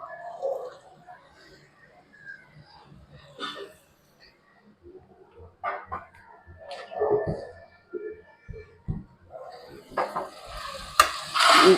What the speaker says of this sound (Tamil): கைமாவையும் போட்டு கொஞ்சம் வதக்கலாம்